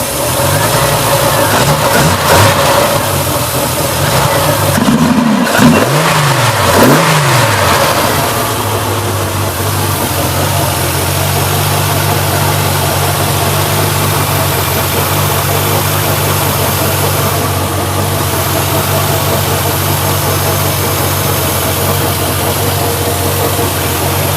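A cold Triumph TR250 engine with triple Weber DCOE 40 carburettors blips through a few quick revs early on, then settles into a loud, steady, slightly uneven idle, close by with no talking.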